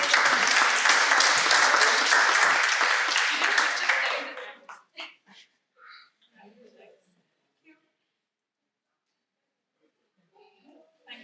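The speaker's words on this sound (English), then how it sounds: "Round of applause for our winners." Applause erupts from the audience at a Toastmasters club milestone meeting in Dubai, honoring contest winners: dense, loud clapping for about four seconds, then dropping away to scattered faint sounds and brief voices.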